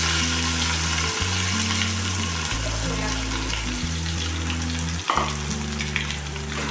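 Crushed onion paste sizzles loudly in hot oil for a kaju curry, a close, steady frying hiss broken by occasional stirring scrapes and a sharper clatter near the end.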